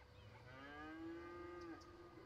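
A single cow in the farm area of the city-building game Cities: Skylines lets out a long, drawn-out moo that rises and holds before trailing off, faint against a quiet low background.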